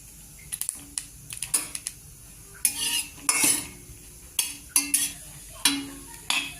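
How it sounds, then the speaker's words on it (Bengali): Green chillies dry-roasting in a pan are stirred with a utensil, producing a series of irregular scraping and clinking strokes with short pauses between them and a faint sizzle underneath, close and fairly quiet. "আমি কাঁচা লঙ্কাগুলো শুকনো খোলায় ভেজে নেব।"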